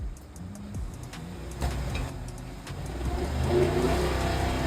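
A Dodge Ram with the 6.4 engine and a cylinder misfire revs up from idle, its engine note rising and swelling unevenly over a few seconds with faint clicks, and no talking.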